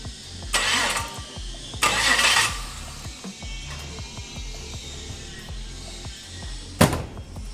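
A Holden HK/HT/HG station wagon with a swapped LS engine is cranked by a freshly fitted starter motor, with two loud bursts early on and a third short burst near the end over a low mechanical rumble.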